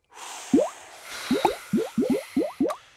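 Cartoon bubble-blowing effects in Peppa Pig: a soft breathy blow followed by a run of about eight quick rising bloopy pops as bubbles form, close and playful, with no speech.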